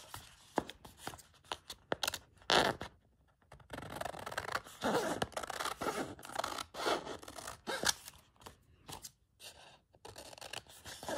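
Scissors rough-cut the edge of a stack of layered paper pages for a handmade journal. They make repeated close, crisp snips mixed with scraping and rustling of the paper.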